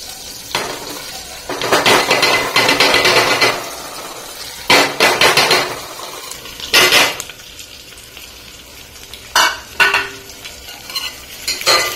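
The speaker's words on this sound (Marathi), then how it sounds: "थोडं ढवळून घेतो" A spoon stirs dal in a metal cooking pot, just added over garlic and chilli, making bursts of scraping and clattering against the pot with sizzling in between, close and loud, with short pauses.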